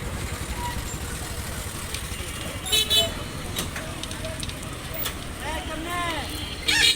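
In a Sunamganj traffic jam, car horns toot in short bursts, some close and some farther off, over the idling engines and street din of a busy intersection, while people talk nearby.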